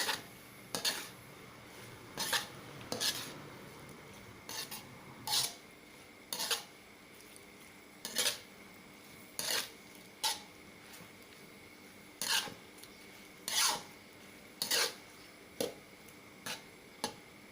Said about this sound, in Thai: ผัดใบกะเพรากับต้นหอมนะคะ ให้สลดนิดนึงนะคะ